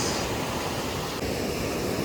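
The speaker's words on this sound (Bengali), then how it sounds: "এই মন্দারমণির ঢেউ আর তার সাথে এরকম বিচের ধারে বসে" Continuous rushing surf, broad and steady like waves washing onto a beach, with no distinct breaks and no voices.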